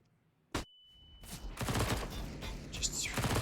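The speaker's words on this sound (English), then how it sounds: "Cirque taking some shots away with that SMG at a long range" SMG gunfire at long range during a competitive CS:GO match on Nuke, a sharp crack followed by a dense run of distant rattling shots, with a commentator talking over it.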